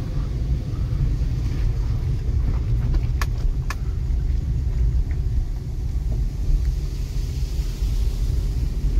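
A car engine rumbles steadily from inside the cabin during a first-day driving lesson, a low continuous drone with a couple of faint clicks over it and no talk.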